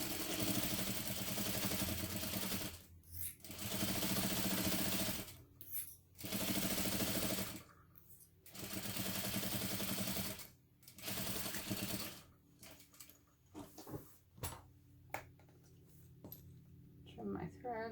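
A sewing machine stitches two bag panels together with a quarter-inch seam and short stitch length, running in steady bursts separated by brief pauses, close and clear.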